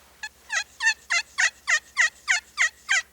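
A thin slate turkey call worked with a striker gives a clear run of nine evenly spaced, sharp yelps, close and alone.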